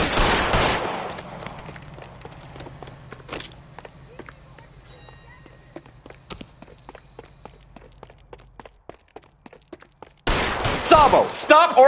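Gunshots in the crime game L.A. Noire, a loud blast at the start, then scattered sharp shots and footsteps over a low hum, ending in a dense loud burst of fire.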